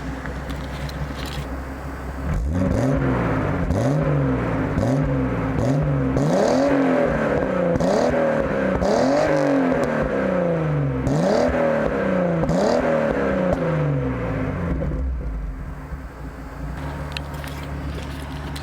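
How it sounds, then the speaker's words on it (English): A Datsun 280ZX's exhaust revs up and drops back repeatedly, a string of rising throttle blips with a throaty tone, ending with a settle back to idle. "I'll let you listen to how my exhaust sounds now."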